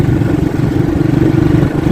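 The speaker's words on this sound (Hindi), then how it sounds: "देखो ट्रैक्टर कितनी गलत रोंग साइड से आ रहा कोहरे में" A tractor engine on a foggy road, heard as a steady loud mid-pitched rumble and clatter that stays constant throughout the moment.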